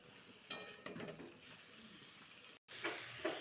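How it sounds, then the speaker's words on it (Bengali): Chopped tomato, garlic, chili and onion fry in a pan with a steady soft sizzle and a few louder stirring scrapes, quiet and close with no talking. "এটার সাথে ভালো করে একবার ভাজবো"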